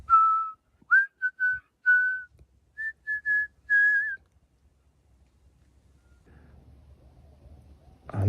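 A person whistles while walking outdoors, giving several short, clear whistled phrases over about four seconds. A quiet low rumble follows, then a brief louder noise at the end.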